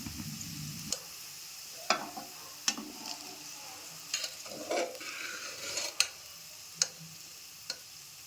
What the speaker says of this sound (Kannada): ಇವಾಗ ಗ್ಯಾಸ್ ಆಫ್ ಮಾಡಿ ರೈಸನ್ನು ಮಿಕ್ಸ್ ಮಾಡ್ಕೊಳ್ಳೋಣ